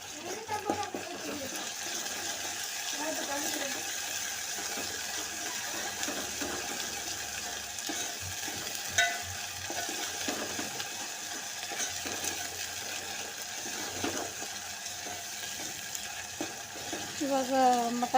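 Garlic and mint paste fries in hot oil in a pan for a Sunday non-veg dish, giving a steady, close sizzle with stirring scrapes that runs throughout.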